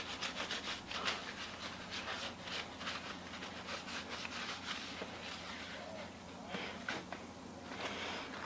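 A brush spreads paint wash over a cheap plastic Jason Voorhees mask from a dollar store, making a steady, close scratchy rubbing that runs the whole time with brief louder strokes.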